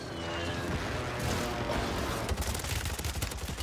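Airstrike explosions and gunfire in Warzone, a dense, loud barrage of overlapping blasts and rapid shots rolling without pause, heaviest toward the end.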